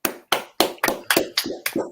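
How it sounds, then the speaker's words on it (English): A few people clap for Sol Campbell's birthday, sharp, separate claps in a steady rhythm of about four per second, close and fairly dry, with no crowd noise. "we'll give a good 5-second round of applause to Mr. Sol Campbell himself"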